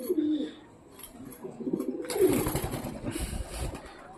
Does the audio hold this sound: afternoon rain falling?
no